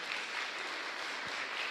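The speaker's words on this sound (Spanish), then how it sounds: "y un fuerte aplauso para el coro también" A congregation at Mass gives the choir a sustained round of applause: many hands clapping together in a steady, even wash that fills the chapel for the whole stretch, with no speech over it.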